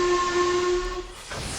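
Steam locomotive whistle sounding a long, steady, clear tone as a goods train departs, followed by a soft hiss of steam as the whistle cuts off.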